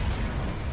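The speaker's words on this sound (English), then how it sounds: "One last explosion marks your fate as your ship is torn apart." A spaceship is torn apart in the game FTL: Faster Than Light, a dense, rumbling explosion that fills the whole moment with a steady, loud roar and no speech.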